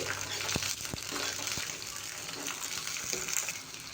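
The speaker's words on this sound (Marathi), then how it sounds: "आता ज्या मिरच्या आहेत त्या मी यात फ्राय करून घेणार आहे" Quiet, continuous sizzling crackle of green chillies frying in hot oil, with a few soft clicks and knocks of a utensil against the pan.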